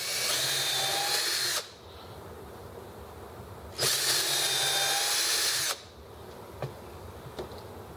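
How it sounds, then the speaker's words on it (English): A power drill bores holes while fitting a mounting bar for model boat engines, two sustained high whirring bursts of about two seconds each, close and loud, separated by quiet handling noises and a few small knocks. "Holes drilled there without incident, and we're still in shot."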